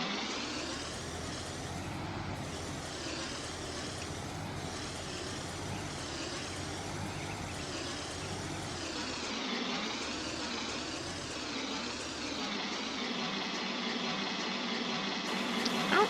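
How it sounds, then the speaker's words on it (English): A steady tractor engine idling throughout in Farming Simulator 19, with a high, wavering ringing tone layered over it, constant and fairly close, no voices. "I don't like that ringing noise it's making. It's idling pretty nice."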